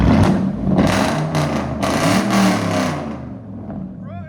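A 2002 Lexus LS 460 with a 4.6L V8 and true dual straight-pipe exhaust revs loudly up close, the engine roar rising and falling over a few seconds while people talk over it.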